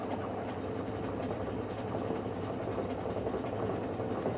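A sewing machine runs a decorative stitch, pattern 36, across the seam of a quilt block: a steady, close, continuous mechanical whir with a fast running rhythm, heard alone.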